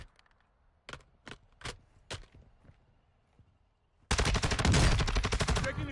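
Gunfire in the video game Warzone: a few separate sharp shots early on, quiet gaps between them, then a loud sustained burst of automatic fire that fills the last two seconds.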